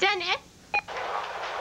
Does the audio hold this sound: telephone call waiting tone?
yes